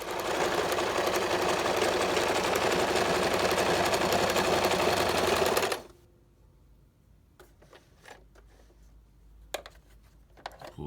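A Kenmore sewing machine stitching a test piece of fabric, a loud rapid mechanical whir and clatter running steadily for several seconds before stopping abruptly, followed by quiet handling clicks.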